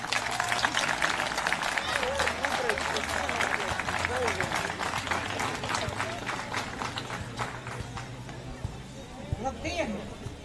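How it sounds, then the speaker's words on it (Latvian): Applause from a crowd at an annual sports games opening ceremony, broadband clapping sustained throughout, loud and dense, with voices mixed in. "Aplausi."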